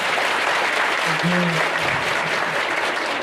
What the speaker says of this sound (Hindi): तो उनके लिए एक जोरदार तालियां